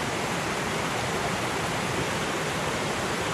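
A rain-swollen stream rushes at a trail water crossing on the Appalachian Trail, giving a loud, steady roar of churning water that holds constant and fills the scene without pause.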